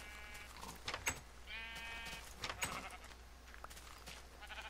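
Minecraft sheep bleat in a video game, several short nasal bleats spread across the stretch, fairly faint over a steady low hum, with no talking.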